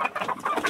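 Chickens and a rooster cluck in a steady, close run of short calls, the hens' chatter overlapping throughout with no one speaking.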